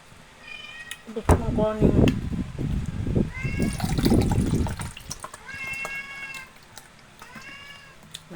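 A house cat meows repeatedly at close range, with several drawn-out meows spread through the clip. A person talks over the first half while running water from a tap sounds in the background.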